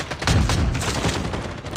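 Dense rapid gunfire in Call of Duty Mobile, a continuous loud burst of automatic shots layered with rumbling blasts across the whole short stretch.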